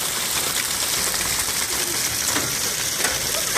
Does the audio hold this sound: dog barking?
no